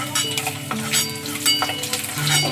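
Eggs fry lightly in hot oil with a close, continuous sizzle and crackle, broken by stirring scrapes and light clinks of a utensil against the pan, no talking.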